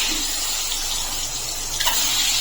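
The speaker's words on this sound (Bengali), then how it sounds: "এখন আমি ডিমটাকে ভেজে নিচ্ছি" Egg coated in salt and turmeric frying in hot oil in a pan, a steady close sizzling hiss running throughout with no talk.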